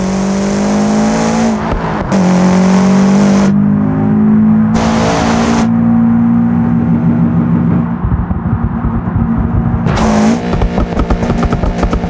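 A Subaru in BeamNG.drive roars loudly and continuously, with its engine note rising and shifting and several sharp bursts of harsh noise cutting in from impacts and scraping.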